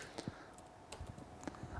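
Keys on a computer keyboard are tapped to enter an installer password in a program for an INSPIRO series alarm control panel, giving a few soft, sparse clicks spread irregularly across a quiet background.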